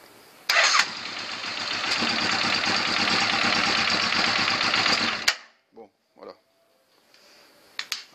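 A carbureted engine with no choke starts with a burst, then runs loud and steady for several seconds before cutting off abruptly, followed by a few faint clicks.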